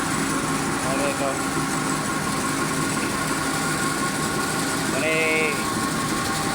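Oxygen compressor running in a workshop, a constant loud mechanical drone with a steady hum that continues unbroken, overlaid with brief tonal squeaks and distant voices.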